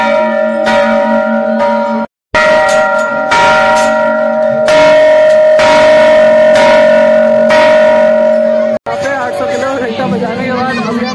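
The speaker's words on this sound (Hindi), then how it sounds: "हम भी बजाते हैं 800 किलो का घंटा" An 800 kg temple bell at the Khatu Shyam temple in Delhi is struck repeatedly, its loud ringing tones sustaining and overlapping over a busy crowd murmur, with brief breaks between strikes.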